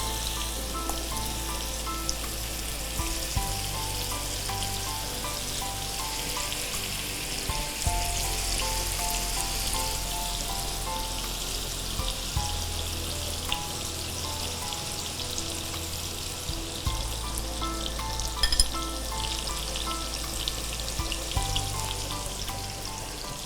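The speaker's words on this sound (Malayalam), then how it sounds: "മാരിനേറ്റ് ചെയ്ത് വെച്ചിരിക്കുന്ന ചിക്കൻ്റെ പീസസ് ഇട്ട് വറുത്തെടുക്കാം" Marinated chicken pieces fry in hot oil over medium heat, giving a steady, dense sizzle and crackle that runs unbroken from start to finish with no voices over it.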